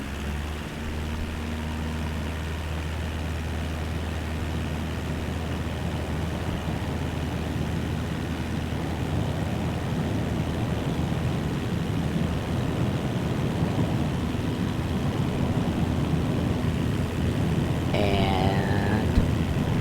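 Aircraft engine spooling at full power for takeoff in MSFS 2024, a steady droning roar that builds gradually over the whole stretch, heard alone without talk.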